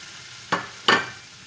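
Kataifi pastry stirred in a hot pan over medium heat, two quick scraping, rustling strokes with a soft sizzle beneath, close and fairly quiet with no talking.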